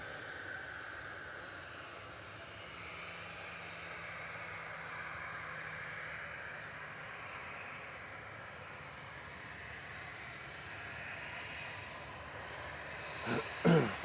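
A Ryanair jet at Manchester Airport produces a steady, distant engine roar that holds for the whole stretch, ending with a couple of brief nearby knocks.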